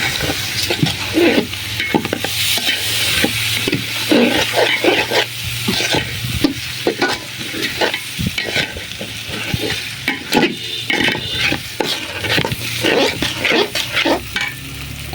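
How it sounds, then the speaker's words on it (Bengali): Washed rice is stirred and fried in a pot: a constant sizzle under repeated scraping strokes of a spoon, close and loud, with no talking. "এখন এটা একটু ভাজা ভাজা করে"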